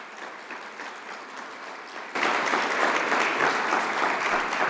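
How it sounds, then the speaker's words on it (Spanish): A conference audience applauds Dr. Moravec at an international distance-education meeting, the clapping steady and moderate, then swelling abruptly louder and fuller halfway through, with no talk over it. "Les pido un aplauso para el doctor Moravec"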